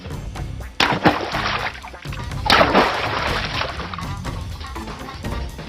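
A loud splash as a pelican dives into water, followed by a second bigger splash and ongoing churning, sloshing water.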